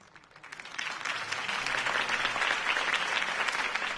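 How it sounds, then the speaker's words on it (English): Applause from a large in-game crowd swells from quiet to a steady, dense roar of clapping that holds strong to the end. "could have heard that applause"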